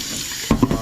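A water tap runs into a sink while something is rinsed, a short close splash and gush with a couple of brief surges.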